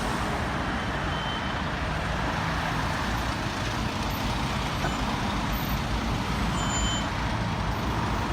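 Road traffic of cars and trucks moves through a mini roundabout on Widmore Road toward Bromley during the morning rush, a loud, steady wash of engine and tyre noise with queuing vehicles nearby.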